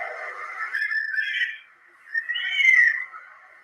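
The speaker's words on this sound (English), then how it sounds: "A whistle that, if I didn't know better, would think a human being whistled." An unknown animal in a forest at 3:32 a.m. gives two loud whistling calls, the first wavering and the second longer and rising, separated by a short silence.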